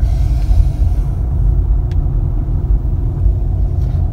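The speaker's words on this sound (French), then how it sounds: "Donc je démarre, j'accélère, vitesse 2." A car accelerates in second gear, its engine a steady, loud low rumble heard from inside the cabin, with no speech over it.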